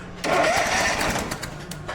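Small engine fitted to an old sprayer unit cranks and catches at once, a loud ragged roar that runs steadily after a quiet start, close by with no talk.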